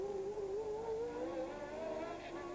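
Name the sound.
Formula One race car engine at 1981 Long Beach Grand Prix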